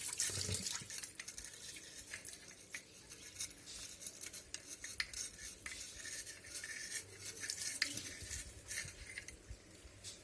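Water trickles through a cleaned household water meter filter, a faint, close, uneven splashing and gurgling with small metallic clicks.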